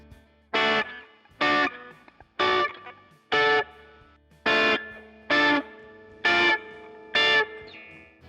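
An electric guitar with a distorted, chorus-tinged tone strikes eight separate minor triads on the top three strings, each chord ringing briefly in an even, spaced rhythm, close and alone.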